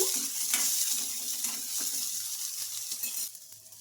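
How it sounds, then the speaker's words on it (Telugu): Coconut pieces frying lightly in oil in a pan, a steady close sizzle with soft crackles and occasional stirring scrapes, thinning out near the end. "కొబ్బరి ముక్కలు కూడా కొంచెం లైట్గా ఫ్రై అవ్వాలండి"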